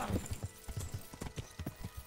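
Horse hooves clip-clop at a steady walking rhythm on firm ground in the medieval game Kingdom Come: Deliverance, close and clear with about a dozen distinct strikes and no talking over them.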